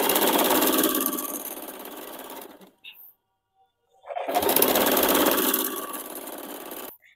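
A sewing machine stitches a petticoat seam for a beginner's sewing lesson in two loud, steady runs of close whirring, broken by a roughly one-and-a-half-second pause.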